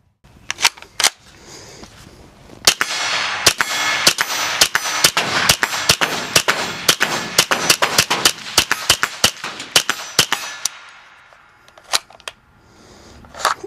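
A pistol firing 5.7 x 28 millimeter rounds outdoors, a few sharp single cracks followed by a long rapid string of loud shots with ringing echoes, then a few more spaced shots at the end.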